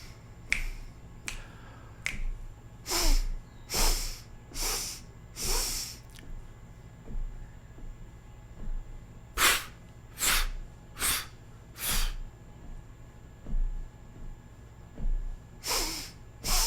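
Air exercise for trumpet playing: a run of sharp, forceful breath bursts, some in quick succession and others spaced a second or two apart, close and loud over a low background hum.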